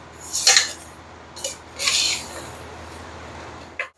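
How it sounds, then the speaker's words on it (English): A spoon stirs veggie meat in a cooking pot with a few scraping, clinking strokes spaced across a few seconds, close and fairly clear, and no talk. "Let's get that stirring"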